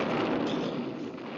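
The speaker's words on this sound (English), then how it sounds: "Oh, boy, Boris, those things make loud booms." A cartoon cannon battery hidden on an island fires, giving one broad, loud, rumbling boom that fades over about a second, with no voices.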